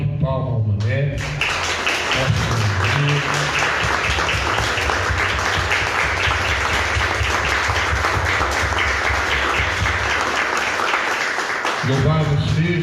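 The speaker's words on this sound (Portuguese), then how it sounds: "Vamos dar uma salva de palmas ao Mané" A congregation at a charismatic night prayer service applauds Mané with a long, sustained round of dense clapping, with a low voice or music bed under it at the start and end.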